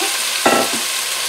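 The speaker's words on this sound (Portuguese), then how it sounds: "Então eu coloco o frango na panela" A short burst of sizzling as chicken hits hot soybean oil in a pan, crackling steadily against a constant broad hiss, close and fairly loud.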